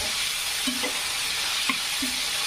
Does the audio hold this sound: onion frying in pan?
yes